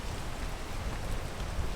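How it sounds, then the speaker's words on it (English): Steady rain in a video game hisses as a dense, even broadband wash, constant and moderately loud throughout with no voices over it. "The rain is slowing me down a bit."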